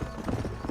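Horse hooves clip-clopping in the Red Dead Redemption video game, a brief quick run of soft thuds at moderate distance, faint and steady.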